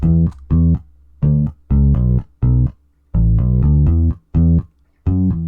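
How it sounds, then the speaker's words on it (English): Synth bass plays short, punchy notes in a syncopated rhythm, each note clipped with gaps of silence between, loud and up front. "put them into a bass that sounds like this"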